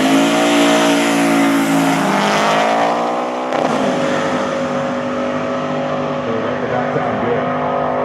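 A drag race car switched to street cruising tires pulls away under steady engine load, a loud, close exhaust drone that rises in pitch, drops sharply at a gear change, then settles into a sustained cruising roar.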